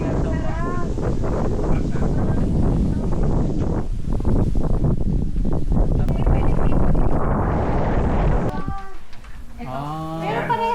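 Strong wind buffets the microphone with a loud, steady roar, while people talk over it and briefly exclaim.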